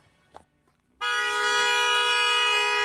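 A car horn blares in one long, loud, steady honk that begins abruptly about a third of the way in and holds to the end, with faint movement noise before it.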